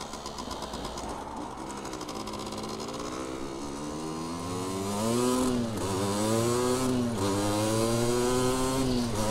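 Motorcycle engine droning steadily while riding on a road, its pitch rising and falling through gear changes and growing louder partway through, with wind noise and no talking.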